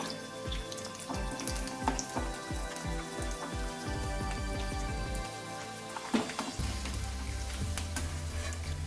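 Cabbage-wrapped pakoda rolls fry in oil over a medium flame with a dense, steady crackling sizzle and scattered pops, broken by a few low bumps and knocks, heard close with no talking.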